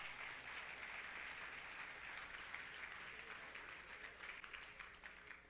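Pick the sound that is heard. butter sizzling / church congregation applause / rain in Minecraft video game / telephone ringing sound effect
church congregation applause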